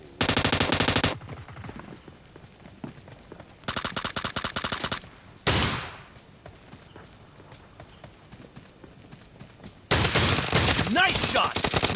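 An M1014 shotgun fires in Battlegrounds Mobile India in loud bursts of rapid, sharp blasts separated by quieter gaps, with a sweeping whoosh in the middle.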